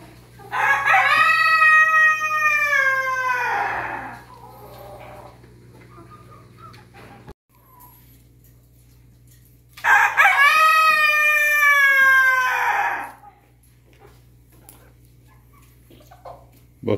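Two full crows from a rooster in an orchard, each about three seconds long, ring out loud and near, separated by several seconds of quiet with no voices.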